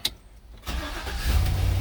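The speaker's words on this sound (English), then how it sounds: "I'm gonna start the car." A 2013 Chevy Silverado engine cranks briefly and catches, then settles into a close, steady, rumbling idle that grows slightly louder toward the end, with no voices.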